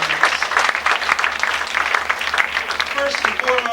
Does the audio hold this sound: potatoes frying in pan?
no